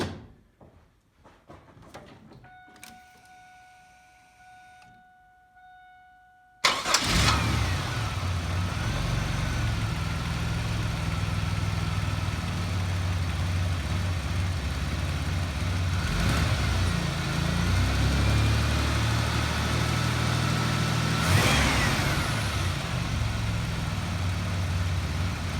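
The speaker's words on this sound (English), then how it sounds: "You can compare this startup to the startup when it was there for 5 years and hadn't cranked over before." A 2002 Pontiac Grand Prix engine cranks, fires and settles into a steady, loud, close idle that holds with a low rumble; clicks and a brief tone come before the start.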